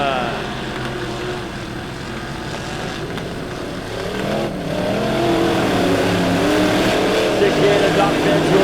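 Dirt track race cars at Lebanon Midway Speedway roar off turn four into a heat race green flag start, a dense layered engine drone building louder toward the end under an announcer's voice.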